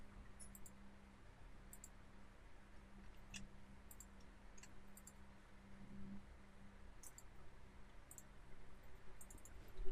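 A computer mouse gives sharp, faint clicks in scattered single and double taps during graphic design work, heard over a low steady hum with no talk.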